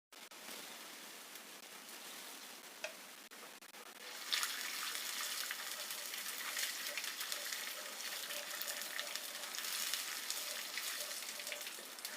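Butter dropped into hot caramel in a pan for caramel popcorn, a quiet hiss that swells into a broad, steady sizzle and continues to the end.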